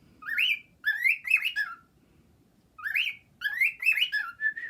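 A pet bird whistles and chirps in two lively bursts of rising, warbling notes separated by a short pause, close and clear with no talk over it.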